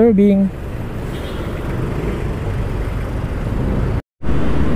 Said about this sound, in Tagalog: Medyo traffic lang.